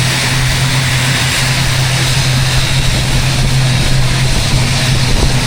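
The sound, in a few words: plane taking off from Tuvalu airport runway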